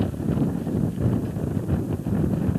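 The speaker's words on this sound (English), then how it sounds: "Now this following wind is gusting quite strong at times." Strong gusting wind buffets the microphone with a steady low roar along the route of the 1988 Humber Bridge Marathon. There is no talk over it.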